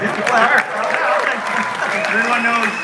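Audience applause at a Walking Dead Empires announcement event: dense, steady clapping from a crowd that fills the clip, with someone talking over it.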